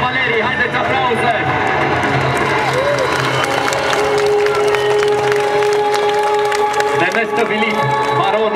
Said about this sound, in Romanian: Haideți aplauze!